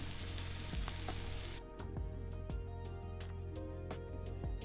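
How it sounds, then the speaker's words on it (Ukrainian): Shrimp fry with rosemary, ground pepper and salt in a pan, giving a steady close sizzle broken by occasional sharp crackles and pops throughout. "І кілька секунд обсмажуємо, аби спеції віддали свій аромат."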